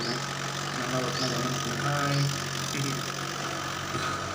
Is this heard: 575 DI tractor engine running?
yes